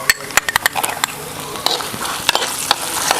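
Garlic sizzling in a hot pan for beef ularthu, a close crackling fry under a quick run of sharp spatula scrapes and clicks against the pan, loud and busy, with a voice faintly in the background.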